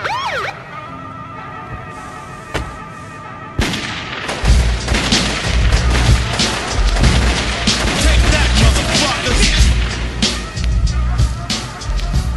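Gunshot and siren effects in a rap song, a few sharp bangs and a wailing siren sweep before a heavy beat kicks in with rapping over it.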